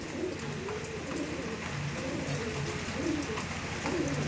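Andhra breed pigeons coo softly in low, repeated rolling phrases, close by and moderately faint against a steady background hiss.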